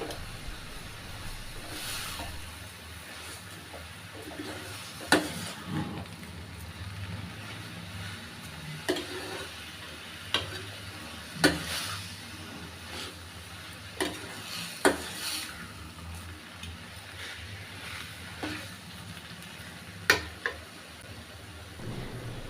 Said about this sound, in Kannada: ತುಪ್ಪದಲ್ಲಿ ಸ್ವಲ್ಪ ಹೊತ್ತು ಹಾಗೆ ಚೆನ್ನಾಗಿ ಫ್ರೈ ಮಾಡಿದ ಮೇಲೆ ಅದಕ್ಕೆ ನಾವೀಗ ತೆಗೆದುಕೊಂಡಿರುವಂಥ ಸಕ್ಕರೆನ ಹಾಕ್ತಿರೋಣ